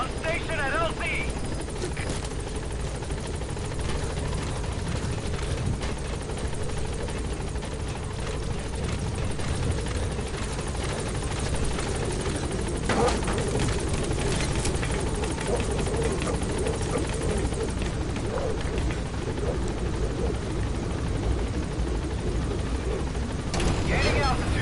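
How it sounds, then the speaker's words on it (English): The Pequod helicopter in Metal Gear Solid V arrives at a landing zone with a loud, constant rotor thrum and engine drone, while voices speak over it. "This is Pequod. Arriving shortly at LZ."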